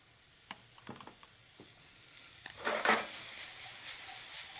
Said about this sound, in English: So we're going to saute it up real good with those colors.